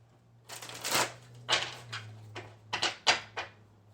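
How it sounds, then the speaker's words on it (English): Tarot cards being shuffled in quick bursts of riffling and sliding, close up, over a low steady hum. "I want to shuffle these again"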